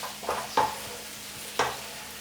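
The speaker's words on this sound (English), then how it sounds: "Add your cauliflower, stir in your cauliflower." Potatoes and cauliflower stirred in a pan with butter, a faint sizzle broken by a few distinct scraping stirs of the spoon, close and quiet, without talk.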